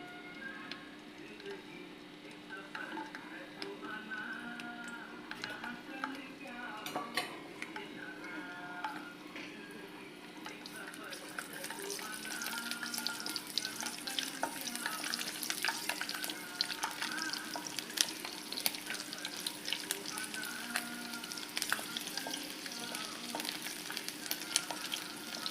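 Garlic frying in a little rice bran oil, a faint background hiss at first that swells about halfway into a brighter, busier crackling sizzle, close by, with light ticking taps.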